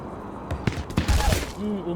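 Gunfire in the FiveM GTA V video game sounds as several quick sharp bursts in the middle, followed by a faint voice near the end.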